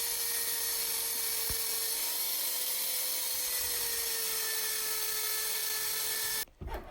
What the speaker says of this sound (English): For fine-tuning, I used a circular sanding cluster on a drill.